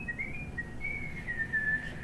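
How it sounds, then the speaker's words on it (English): Thin, wavering whistling at a steady pitch, faint and a little breathy, continuing without a break. "My children are trying to whistle around me too right now."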